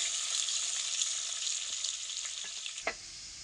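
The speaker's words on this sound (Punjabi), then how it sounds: "ਹੁਣ ਆਪਾਂ ਇਹਦੇ ਵਿੱਚ ਲਸਣ ਐਡ ਕਰ ਦਿੰਨੇ ਆ ਲਸਣ ਨੂੰ ਆਪਾਂ ਹਲਕਾ ਜਿਹਾ ਬਰਾਊਨ ਕਰ ਲਵਾਂਗੇ" Garlic sizzles in hot oil with fenugreek seeds and cumin in a pan, a steady close hiss with a brief stirring scrape near the end.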